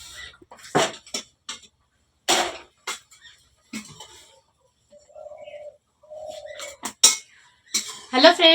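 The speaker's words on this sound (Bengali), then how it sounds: "এই যে প্রেশার কুকারের মধ্যে মামামের খাবারটা আর কি বসিয়ে দেবো" Metal pots, a pressure cooker and utensils clatter and clink in a home kitchen while food is loaded in, with sharp separate knocks and rattles broken by pauses. Soft bird coos are heard faintly in the gaps.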